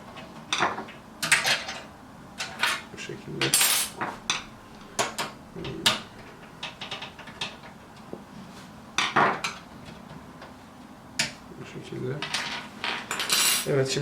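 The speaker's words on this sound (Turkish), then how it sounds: "ben anakart koymadan önce grafik kartı e, takacağımız için o PCI slotlarını şöyle bir açmak istiyorum" Metal PCI slot covers are worked loose from a PC case during assembly of a custom liquid-cooled PC, giving sharp, irregular metallic clinks, taps and rattles close by, in scattered bursts with short pauses.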